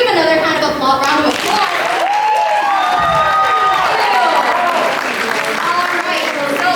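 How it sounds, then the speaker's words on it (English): A large crowd applauds steadily after a dance performance, with cheers and whoops rising over the clapping, loud and sustained throughout. "Can we give another round of applause?"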